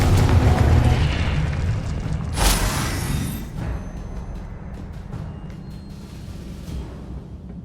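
Confringo fire spell explosions in the video game Hogwarts Legacy, a deep booming blast with a bright burst near the middle, then a rumbling, crackling decay beneath continuous game ambience.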